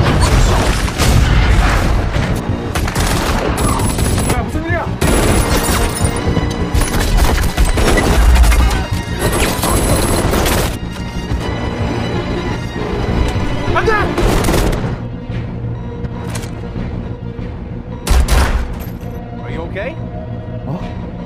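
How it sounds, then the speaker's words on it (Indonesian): Gunfire erupts during an armed attack in a film, with repeated sharp bursts and heavy booms scattered through a loud, dense action soundtrack, while voices are heard amid the chaos. "Namun selang beberapa saat, beberapa orang menyerang mereka dengan senjata hingga Ki-hun dan Sobuk dibawa oleh mereka."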